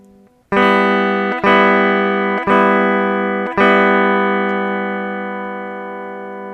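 Electric guitar strummed through an Xvive U2 wireless system at 35 feet, four loud ringing chords struck in steady succession, the last left to sustain and slowly fade.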